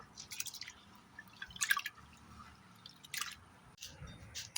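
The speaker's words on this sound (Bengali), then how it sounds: "চালটা এবারে ধুয়ে নেব" Rice being washed in water in a home kitchen, heard as a few soft, close splashes and drips separated by quiet gaps.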